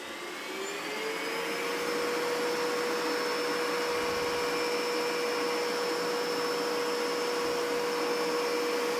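A Dreame X50 Ultra robot vacuum runs on a floor strewn with long hair, a steady, close motor whine with a high tonal hum holding level throughout, no talking.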